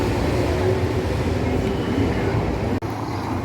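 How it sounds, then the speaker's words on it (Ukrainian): A number five tram rolling along French Boulevard in Odesa, a continuous low rumble passing close by for the whole stretch, with a brief dip near the end. "Саме зараз проїжджає п'ятий трамвайчик."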